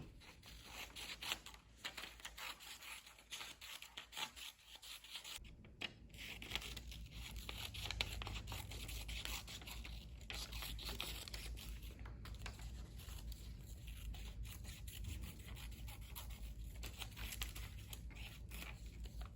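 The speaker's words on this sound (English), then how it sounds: "So we're going to cut our SpongeBobs out." Scissors cutting out paper SpongeBob pictures, a faint, steady run of snipping and crinkling paper sounds close by, with no talking.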